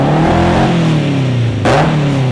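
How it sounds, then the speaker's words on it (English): Toyota AE86 engine revving hard nearby, a loud continuous roar that climbs and falls with a sharp blip near the end, no talking. "Rev it up a couple times, see if it does anything."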